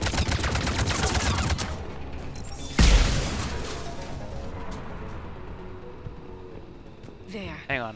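Sustained assault rifle fire in Mass Effect 3, a dense rapid burst for the first couple of seconds, then a loud boom-like impact and a long fading rumble of battle, with a voice talking throughout.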